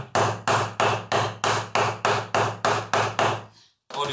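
A rubber mallet pounds a mold into leather for a steampunk mask in a steady run of about eleven close, even blows. After a short pause, one more strike lands.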